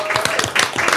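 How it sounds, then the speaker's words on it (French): An audience claps and cheers loudly at a live podcast event, a brief dense burst of applause filling the room. "je voulais vraiment qu'on les applaudisse encore très fort et qu'on fasse plein de bruit pour eux"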